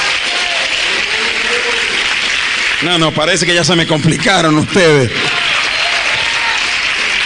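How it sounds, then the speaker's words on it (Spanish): Church congregation applauding loudly and steadily, fading briefly as someone speaks in Spanish in the middle, then swelling back into a sustained clapping wash to the end. "Denle un fuerte aplauso al Señor."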